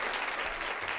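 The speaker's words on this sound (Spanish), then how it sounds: "Un aplauso muy fuerte." Audience applause on a TV variety show, a steady dense burst of clapping filling the short moment at even loudness with no voices on top.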